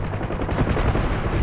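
Dense, continuous barrage of gunfire rattles against a UH-1H helicopter in the DCS flight sim, loud and close with no clear gaps between hits.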